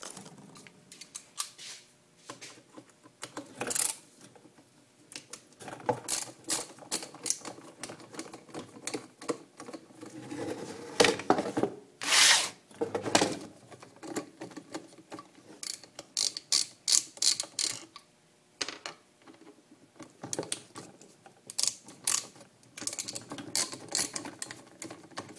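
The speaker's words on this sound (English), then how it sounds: "An awesome screwdriver. It's like a socket wrench, but it's a screwdriver." A ratcheting screwdriver clicks in irregular bursts of rapid ratchet pawl ticks, close up, with short pauses between turns and no speech.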